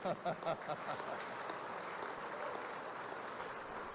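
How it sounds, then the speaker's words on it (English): Business audience at a Chamber of Commerce meeting applauding, with a few voice bursts at the start, then a steady, even wash of many hands clapping that holds through to the end. "big round of applause for Anna because this is a Chamber of Commerce meeting"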